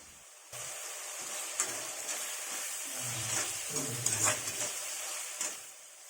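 Garlic goes into a pan of frying onions for turkey berry kuzhambu, setting off a steady, close sizzle with soft scraping stirs and a few brighter crackles over the hiss.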